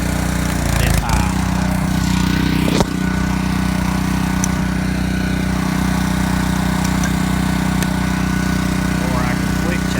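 Residential gas pressure washer engine running steadily during soft washing of a house, a constant low droning hum with a brief dip and a couple of sharp clicks early on.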